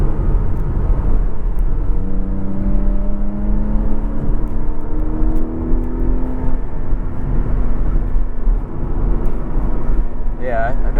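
A Porsche Cayman accelerates without a downshift, its engine note climbing smoothly in pitch over several seconds beneath loud, constant road and wind noise, then settling into a steady cruise.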